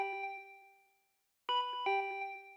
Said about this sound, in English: My body reacted reflexively as I heard the doorbell.